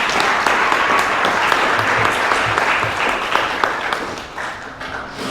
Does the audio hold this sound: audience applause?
yes